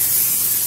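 Cooking spray hisses from an aerosol can onto a baking dish for brownies, one short, close burst of spray heard alone.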